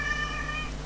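A cat gives a single drawn-out meow lasting under a second, close and fairly clear over a steady low background hum, with no talking.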